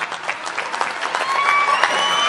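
Audience applause at a poetry recital of Urdu shayari, a dense, steady clapping from a crowd that holds strong and even throughout.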